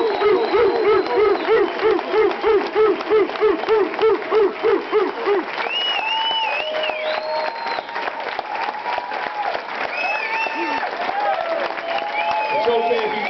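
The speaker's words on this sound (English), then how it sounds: "give these outstanding 13 young men here a big round of applause" A party crowd at an NCAA Selection Show gathering applauds and cheers a 13-man college basketball team, with continuous clapping, rhythmic hand beats and high whoops and whistles running throughout.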